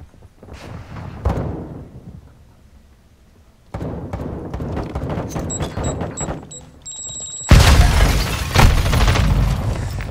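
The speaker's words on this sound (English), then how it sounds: "Friendly cruise missile inbound." Call of Duty match with a cruise missile strike: sharp booms and thuds, a sustained electronic alarm tone, then a loud, dense blast rumble dominating the final seconds.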